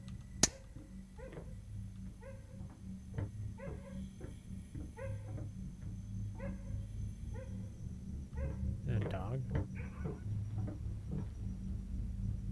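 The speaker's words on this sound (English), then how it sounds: "That dog just yelped in pain." A dog in the video game Home Sweet Home yelps and whimpers in a repeated series of short, pitched cries over a steady low drone, with a sharp crack at the start.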